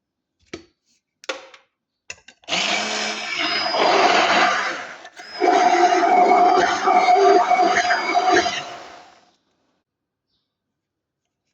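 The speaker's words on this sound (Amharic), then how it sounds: "አንድ ላይ ፈጫዋለሁ።" A blender whirs loudly and steadily for several seconds while grinding yogurt, milk and mayonnaise into a shawarma sauce, pausing briefly midway before running again, with a few clicks before it starts.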